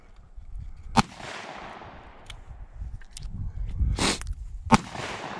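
Several sharp gunshots from a Ruger Blackhawk revolver at an outdoor range: three loud cracks with echoing tails, around one, four and near five seconds, plus fainter distant shots between them.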